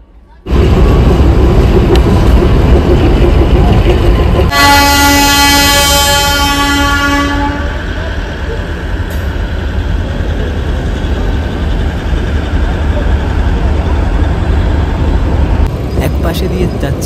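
The Darjeeling toy train runs loudly alongside a main road, giving a long, strong horn toot early on over a continuous close rumble of the engine and wheels that carries on to the end.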